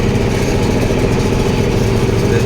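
A tractor engine runs close by in a field, a loud, steady low-pitched drone that holds constant throughout with no speech over it.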